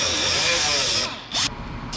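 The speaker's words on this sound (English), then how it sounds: "So we're gonna cut along the weld without cutting into the bar." A power tool cutting along a weld on a tube-chassis Honda Civic bracket, a loud steady abrasive whir and grind at close range that cuts off and resumes in short bursts.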